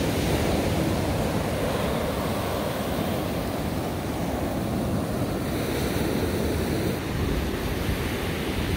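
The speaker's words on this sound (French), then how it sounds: "Les vagues sont vraiment intenses. C'est vraiment fait pour faire du surf ici." Intense ocean surf pounds Palomino beach on Colombia's Caribbean coast, a steady, loud roar of breaking waves with wind rushing over the microphone throughout, no voices present.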